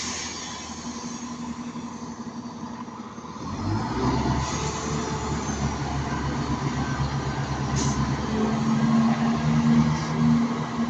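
An East Midlands diesel train departing Stockport station on a Liverpool Lime Street service, its engine rumble swelling from a low idle to a steady, louder drone as it pulls away, with no talking.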